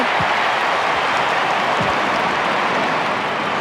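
A large crowd at an AFL match between the West Coast Eagles and Adelaide Crows roars continuously, a dense wash of cheering and noise heard from within the stadium throughout.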